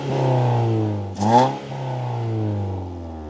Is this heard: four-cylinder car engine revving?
yes